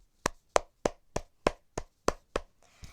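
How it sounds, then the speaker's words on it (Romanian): A single person claps hands in a slow, even run of about nine sharp, dry claps, close and isolated against near silence. "Hai să-i aplaudăm."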